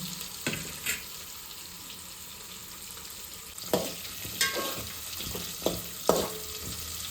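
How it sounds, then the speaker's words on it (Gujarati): Chopped carrots sauté in a pan with a soft, continuous sizzle, broken by several scraping stirs and clinks of a spoon that grow busier in the second half. "હવે આપણે તેમાં જે આ ગાજર છે એને પેલા સાંતળી લેશું."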